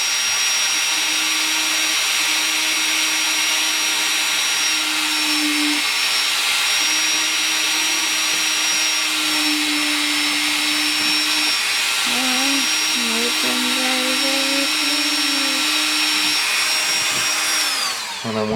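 Dremel rotary tool working on the plastic of an AMT 1/537 USS Enterprise model kit, a steady high-pitched whine running close and continuous with slight pitch dips as it bites, then stopping at the end.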